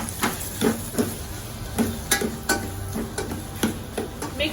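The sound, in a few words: green chilies and tomatoes sizzling and being stirred in a pan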